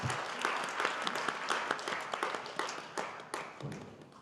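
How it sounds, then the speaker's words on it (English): Warm audience applause at a design research and education forum welcoming a keynote speaker, a steady wash of many hands clapping throughout, fairly even in loudness with crisp individual claps standing out. "Please give her a warm round of applause."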